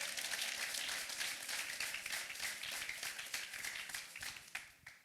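A church congregation claps hands in praise, a dense steady patter of many hands filling the space, gradually thinning and fading toward the end.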